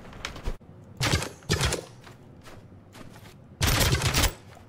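Gunfire from a gun in the video game TABS: several loud bursts of rapid shots with short gaps between them, the last burst the longest.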